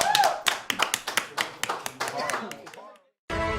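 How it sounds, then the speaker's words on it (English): Studio audience at a live trivia game show clapping, about a dozen close, distinct claps in an uneven rhythm that thin out and fade, followed by a brief silence and then louder sound. "Clap it up, everybody."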